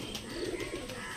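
Young Andhra Kalshira pigeons coo in a low, continuous throaty murmur, close by, with soft background rustle.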